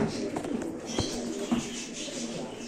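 Pigeons coo in low, throaty calls close by, with soft shuffling and fluttering movement beneath the steady murmur of the flock.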